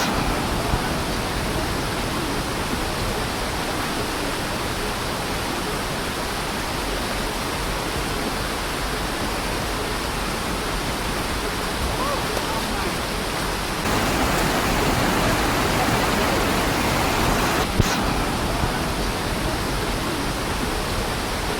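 Water from a waterfall pours steadily over rocks along Bopath Ella's rocky gaps, a dense, unbroken roar from start to end that swells slightly louder partway through, with no voices.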